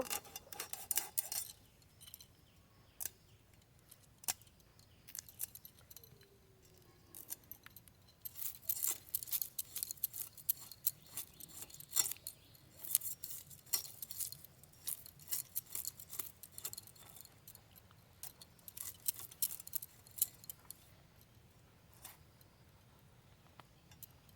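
Small sarputi fish being cut with a knife or scissors in a kitchen, faint scattered snips and scraping clicks repeating irregularly over a quiet background.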